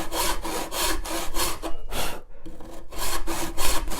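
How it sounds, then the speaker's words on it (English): A hand saw cuts through pallet wood in steady back-and-forth strokes, rasping rhythmically with a brief pause midway before resuming. "So I give it a good old shove on the push stroke, and you can hear the difference in the noise"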